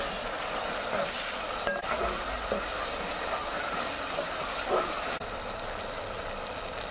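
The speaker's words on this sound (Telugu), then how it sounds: "ఈ పచ్చి వాసన పోయేంత వరకు వేయించుకోవాలి, ఫ్రై చేసుకోవాలి బాగా ఆయిల్లో" Ginger garlic paste frying in oil, a continuous close sizzle with occasional stirring scrapes and soft clatter, steady throughout without talking.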